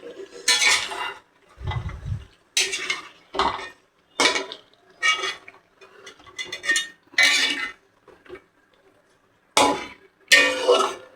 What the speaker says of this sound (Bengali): এবার পেঁয়াজ আর ক্যাপসিকাম ক্যাপসিকাম ভাজাটা দিয়ে দিলাম